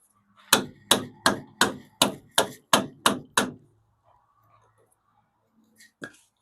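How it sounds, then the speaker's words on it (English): A big chunk of wood strikes the body of a barn-find 1977 El Camino nine times in a steady rhythm, each hit a sharp, loud knock close by. Silence follows, then one last softer knock. "See if we got something to whack it with."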